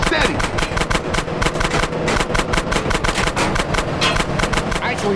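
Sustained automatic gunfire from a drive-by shooting in GTA San Andreas, rapid repeated bursts that are loud and close throughout, with voices and engine noise mixed underneath.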